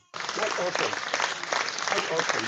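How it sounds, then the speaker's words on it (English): A person clapping along with a crowd's applause on a call, sustained dense claps throughout while someone speaks over it. "Let me clap for you."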